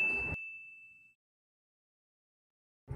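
A single bright notification bell ding, clear and close, ringing out and fading over about a second before silence, with a brief snippet of voice at the very start and end.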